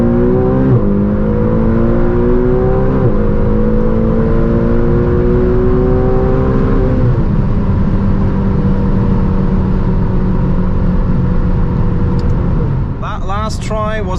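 A 620hp McLaren GT accelerates hard from 100 to 200 km/h with a loud, droning engine note that climbs in pitch. The pitch drops sharply at each gear change, and the engine cuts off at the end.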